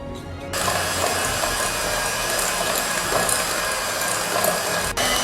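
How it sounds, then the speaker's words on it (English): Continuous whirring buzz of an electric hand mixer creaming butter and brown sugar for cookie dough, steady and fairly loud after a brief quiet start, with a short dip near the end. "And then we are going to cream it with an electric hand mixer."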